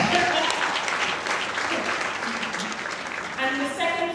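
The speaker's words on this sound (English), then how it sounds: "let's get clap, it's a big achievement" Youth audience applauding a film director's talk at a youth leadership event, steady clapping that runs for about four seconds while a voice speaks over it.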